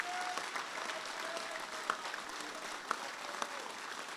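Applause from the audience at a veterans' conference, a steady wash of clapping that fills the hall, moderately distant, with a few sharper individual claps standing out.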